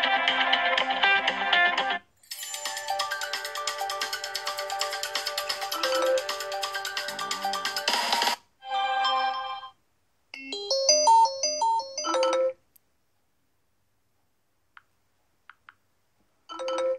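Ringtone samples play through the loudspeakers of a Samsung Galaxy Note 7 and a Sony Xperia XA Ultra, bright electronic melodies and chiming tone sequences in several separate loud bursts, with short silent gaps between them.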